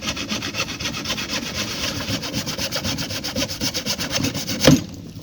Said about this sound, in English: Alright, you basically got to saw off the neck.